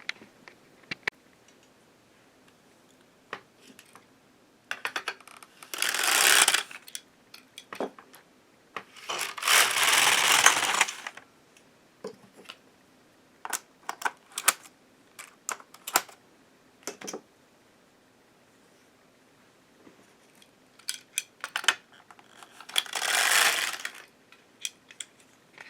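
An LK150 knitting machine carriage sliding back and forth across its bed, knitting an every-other-needle weaving sample in orange yarn. Several bursts of rattling, rubbing and clicking pass close by, separated by short pauses and softer clicks.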